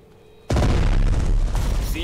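A heavy boom rings out suddenly in the WWII strategy game Strategic Mind: Blitzkrieg during a naval assault, followed by a sustained loud rumble of gunfire and explosions, with a voice heard briefly over the din.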